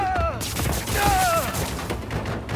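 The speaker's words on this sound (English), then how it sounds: "Stop shooting stuff." Gunfire in the video game Marvel's Spider-Man 2, a dense crackling volley mixed with whooshing game effects and a background score over roughly two and a half seconds.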